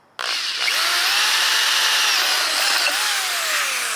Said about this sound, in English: then I'm going to come back with a bigger drill bit and drill it out